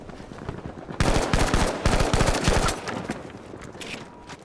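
An M1907SF fires in Battlefield V in a rapid automatic burst lasting under two seconds, loud and close, followed by a fading tail and softer trailing shots.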